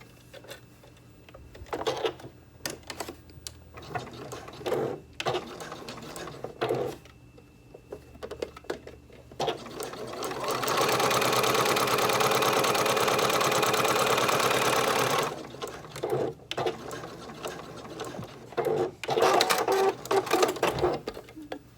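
Sewing machine top stitching a hole closed on a swim fabric scrunchie, with short bursts of stitching, then one long steady run in the middle, then more brief bursts.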